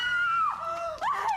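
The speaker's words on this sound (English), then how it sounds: "she does a lot of screaming in this show" A woman screams in the True Blood TV series, a loud, sustained high-pitched shriek that dips briefly, then surges again with a rising, wavering cry, heard alone without talk.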